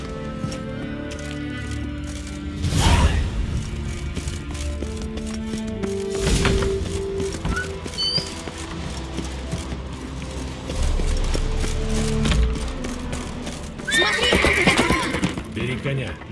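A horse in The Witcher 3: Wild Hunt whinnies loudly several times over galloping, clip-clopping hooves, with game music underneath and a brief spoken line.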